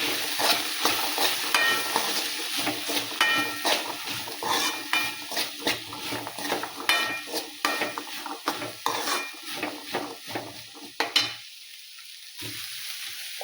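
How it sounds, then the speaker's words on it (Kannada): Stirring peanut powder into green chickpea curry frying in a pan, a steady sizzle under repeated scraping strokes of a spoon against the pan, loud and close, then a sudden drop near the end. "ಸ್ವಲ್ಪ ಶೇಂಗಾ ಪುಡಿ ಹಾಕ್ತೇವೆ ನೋಡಿ ಈಗ ಚೆಂದಾಗಿ ಮಿಕ್ಸ್ ಮಾಡ್ಕೊತಾರೆ"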